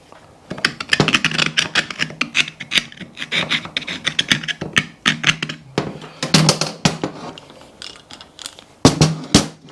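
A ratchet socket wrench turns on a crusty, rusted fitting, making quick runs of sharp metallic clicks in uneven bursts, close and fairly loud, with no talking.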